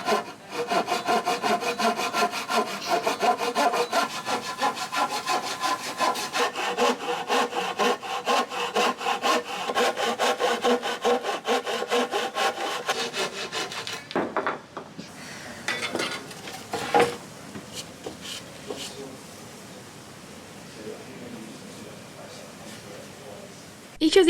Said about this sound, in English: I decided to instead bring out my Japanese pool saw and do some hand sawing